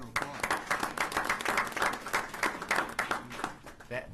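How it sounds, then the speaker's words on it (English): A brief round of applause at a board of governors meeting, dense rhythmic clapping from a small group in a room, fairly quiet, tapering off toward the end. "So we can give you a round of applause."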